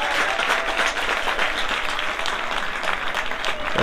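A football crowd applauds a departing goalscorer during a match, a broad, continuous roar of clapping from a large stadium audience that holds steady throughout.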